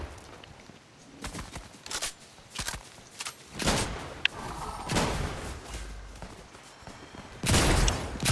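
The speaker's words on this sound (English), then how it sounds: "I'm fucking shooting them!" Gunfire and thuds from Fortnite gameplay: scattered sharp bursts and impacts, with loud volleys near the start and again toward the end, with no talking.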